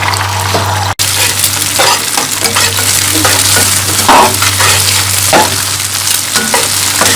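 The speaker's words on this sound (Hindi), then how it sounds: "एग लिए हैं मैंने, उनको आपने तोड़ के मिला लेना है और इसको हम फ्राई करेंगे।" Beaten eggs fry in a pan with a loud, steady sizzle, accompanied by a low steady hum and intermittent scraping of a spatula stirring; a brief dropout breaks the sound near the start.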